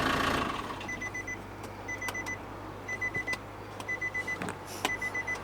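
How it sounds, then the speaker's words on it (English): A Japanese car's warning chime, like an old Casio alarm clock, repeats in short bursts of quick electronic beeps over a low idling engine hum. "They love making their cars have like old Casio alarm clock noises."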